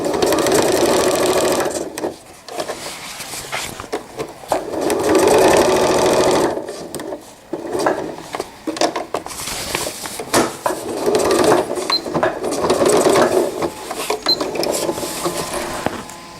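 A sewing machine stitches laundry tabs onto a cloth diaper cover with cased elastic, running in loud, close bursts of rapid mechanical whirring broken by short pauses.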